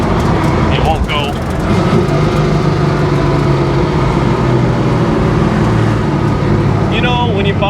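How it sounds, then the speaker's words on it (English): A 1971 Chevy Nova's engine and slightly rowdy exhaust drone steadily while driving, a low rumble under nearly continuous talk from inside the car. "the exhaust in this thing is like nice. It's a little rowdy, but it's very livable."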